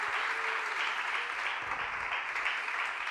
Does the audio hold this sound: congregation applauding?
yes